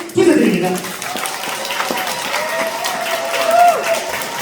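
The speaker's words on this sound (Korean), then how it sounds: "큰 박수!" Guests at a wedding ceremony in a Seoul wedding hall burst into applause on cue, a loud crowd of clapping and some cheering, while an amplified host's voice carries over it.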